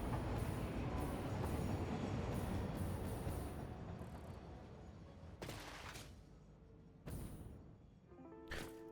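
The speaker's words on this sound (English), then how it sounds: "The train setup is nice because it's doing a couple of things for us." A train rolls along the tracks in the factory-building video game Satisfactory, a loud, continuous rumbling clatter that gradually eases, broken by sharp bursts and a few electronic blips toward the end, with no voices.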